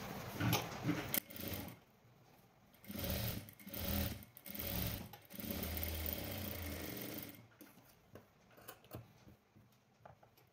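A sewing machine stitches a lined blouse in several bursts of steady whirring, close and loud, separated by short pauses and a few clicks toward the end.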